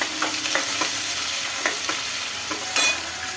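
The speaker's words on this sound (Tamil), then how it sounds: "இதை நல்லா வதக்கிக்கலாம்." Onions, both small shallots and chopped big onions, being sautéed in a pan for a brinjal and curry-leaf kulambu: steady frying sizzle with scraping stir strokes, no voices.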